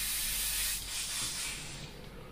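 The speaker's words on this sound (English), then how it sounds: "So that's a little spray test for you." An Iwata HP-BCS airbrush with a 0.5 mm nozzle blasts paint in a steady, close, breathy hiss that swells after the first second and then slowly eases, with no voices.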